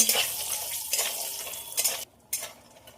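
Lentil dumplings (bori) fried and stirred in oil give a close, bright sizzle broken by spatula scrapes, with a brief lull near the end before the frying hiss resumes; no voices.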